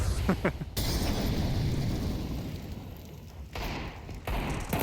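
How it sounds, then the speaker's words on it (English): A Counter-Strike 2 explosion during a professional match booms loud and close, leaving a rumbling tail with a brief dip, while commentators talk. "It's the explosion."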